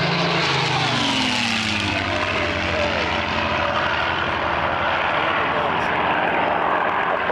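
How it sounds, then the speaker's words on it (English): Two P-51 Mustang warbirds roar past in a high-speed low pass at an airshow. Their loud piston-engine drone fills the clip throughout, with the pitch sweeping downward as they go by and an announcer talking under the noise. "At high speed, a low run. Two Mustangs"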